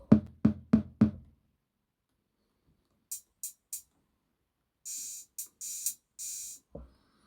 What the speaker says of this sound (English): when we press this it should trigger the TD-3 sounds.